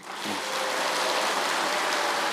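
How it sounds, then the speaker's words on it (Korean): Congregation in a Korean church winter camp applauding the kitchen staff, a steady wash of many hands clapping together that swells in quickly and holds dense and even for a couple of seconds, with no talking over it. "그럼 부엌에 계시는 사모님들 향해서 박수 한번 드립시다."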